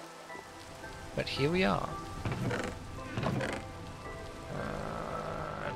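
Steady rain falls in Minecraft with the Nomifactory modpack, a soft continuous hiss beneath someone talking, with the rain loudest where his voice drops out.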